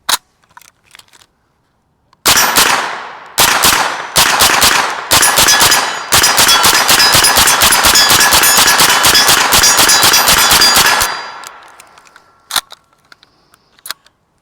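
Suppressed MKE AP5-SD submachine gun firing standard NATO ball ammunition, loud and close: a few single shots and short bursts, then a long sustained run of rapid automatic fire that stops abruptly, with a faint echo tail and scattered clicks after.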